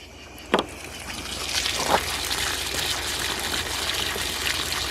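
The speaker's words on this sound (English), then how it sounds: "And then the water just drains out the bottom there." Water drains from a hose under the bottom of an old van in a faint, steady trickle outdoors, with a couple of brief splashy knocks near the start.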